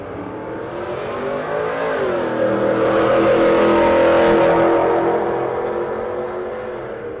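A race car at Rocky Mountain Race Week passes close by, its engine note rising and swelling to a loud peak before easing off as it pulls away, heard alone without voices.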